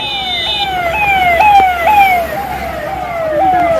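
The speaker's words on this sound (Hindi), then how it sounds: "एम्बुलेंस की आवाजाही देखी गई।" A wailing siren sweeps repeatedly in a fast, falling pattern, loud and close, over steady traffic rumble.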